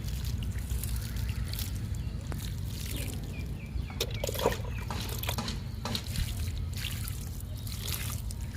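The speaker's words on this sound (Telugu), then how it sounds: "ఇంకా వాటర్ ఇచ్చేద్దామండి వెర్బెనాకి" Water splashes and trickles steadily onto a newly planted verbena, a close, even pouring sound with faint drips and no voices.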